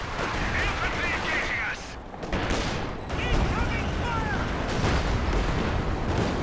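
Raketenwerfer rocket artillery firing in a Company of Heroes 2 multiplayer battle, a burst of rapid whooshing launches and booming impacts layered over steady battlefield noise, fairly loud and close.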